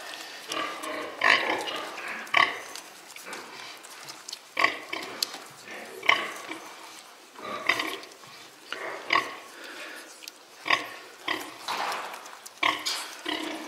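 A sow with a newborn litter of piglets feeding, giving repeated soft rhythmic grunts mixed with high squeals from the piglets, close and steady throughout.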